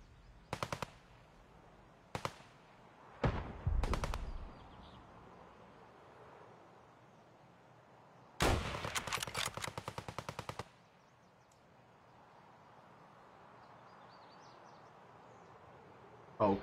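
Distant gunfire in an online shooter as a player scav fights rogues: a few short bursts early on, then one long rapid automatic burst, all fairly faint against a quiet background.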